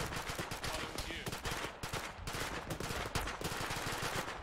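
Rapid video game gunfire in a ShackTac military shooter, sustained bursts of automatic shots with scattered single cracks, loud and close, with voices faintly mixed in.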